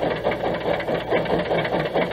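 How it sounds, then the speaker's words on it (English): The General, an 1855 steam locomotive, runs with a steady rhythmic chuffing and rapid mechanical clicking from its tappets, a continuous mid-loud chugging pulse throughout. "Listen to this. That's a great sounding little engine. That's the General."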